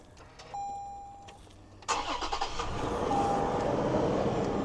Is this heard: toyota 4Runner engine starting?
yes